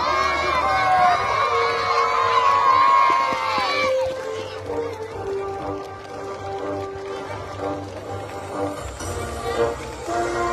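Spectators cheering a sled-dog musher passing during a stage start at Col de Porte: a lively crowd roar with shouts and whoops that peaks early, then settles into a lower murmur with scattered calls.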